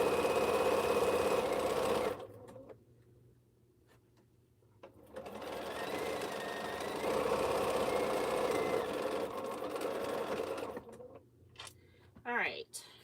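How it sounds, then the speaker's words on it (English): A sewing machine stitches two T-shirts together for a quilt in loud, rapid bursts, pausing twice before resuming, with quiet handling noise in the gaps. "2 different shirts here being sewed together."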